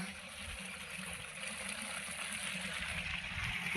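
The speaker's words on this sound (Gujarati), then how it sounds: "ખેતરમાં પાણી પણ ચાલુ છે" Irrigation water running through a ripe wheat field at harvest, a soft steady outdoor trickle and flow that stays fairly faint throughout.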